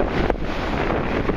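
Strong wind buffets the microphone in a steady roar at a bay at low tide, loud and close, with no other sounds standing out and no one talking.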